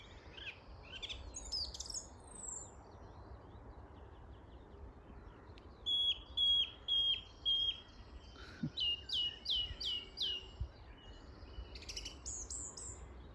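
Clear song of a willow warbler, repeated descending phrases in bursts near the middle and end, over quiet rustling ambience.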